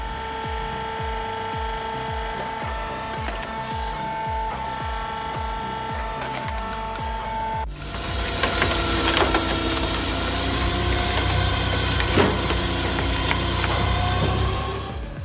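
Homemade firewood processing machine handling large logs, loud and continuous throughout: a rhythmic mechanical thumping and whine in the first half, then a harsher, denser grinding and splintering of wood that keeps going to the end.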